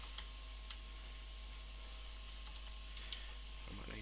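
Rapid typing on a rechargeable computer keyboard during a live Python coding session, soft scattered key clicks under a steady low electrical hum, faint and close, with no talking.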